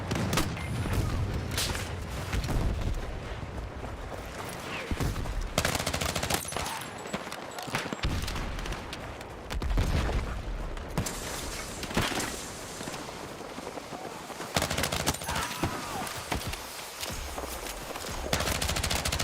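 Sniper and gunfire shots in Battlefield 6, loud, near bursts of automatic fire and heavy single cracks with booming impacts, continuous battle noise throughout.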